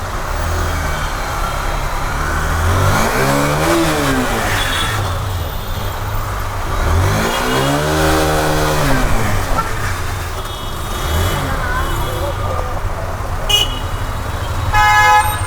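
A newly delivered motorbike revs up twice in a row, then its horn toots in several short bursts near the end, all loud and close over outdoor background noise.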